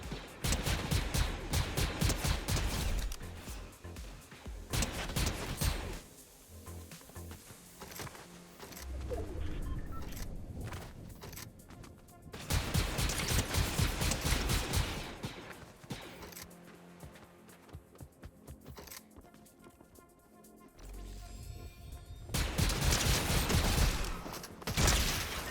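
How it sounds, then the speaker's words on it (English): Heavy gunfire in a sci-fi galactic battle video game comes in loud bursts of rapid shots and volleys, with quieter gaps between the barrages and brief crashes. "Is someone shooting at us?"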